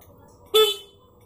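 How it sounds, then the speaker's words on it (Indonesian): A Yamaha Mio J motorcycle's anti-theft alarm gives one short, sharp honk of its horn against a quiet background. "Klaksonnya ramai ya."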